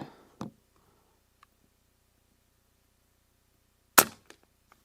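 Two sharp air rifle reports from an Avenge-X Classic .177, a faint one near the start and a louder crisp crack about four seconds later, each quickly decaying in near silence.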